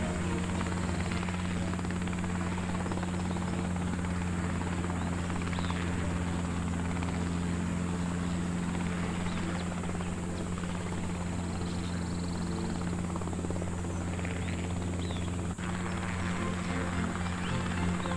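A helicopter drones steadily overhead, its rotor thrum and engine hum constant and moderately loud with no voices.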